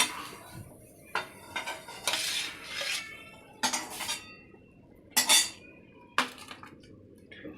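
A small semolina (rava) mini pizza is eased off a kadhai onto a plate, giving several bright metallic scrapes and clinks of a utensil against the pan and plate, close by, with short pauses between strokes.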